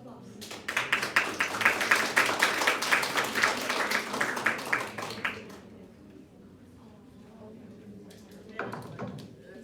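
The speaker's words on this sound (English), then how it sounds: "Everybody, a big round of applause." An audience at an engineering lecture claps loudly in a dense, rapid burst for about five seconds, then it fades. A few scattered claps and some faint talk follow.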